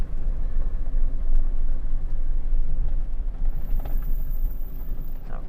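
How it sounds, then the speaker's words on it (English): A pickup truck's steady low engine idle rumbles continuously, close by, with a faint clunk near the end and no voices. "Normally I turn the truck off so that the noise doesn't interfere with the video"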